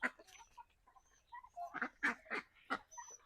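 Ducks, geese and hens call in a farmyard with a few short honks and quacks, close and fairly loud, spaced irregularly through the clip.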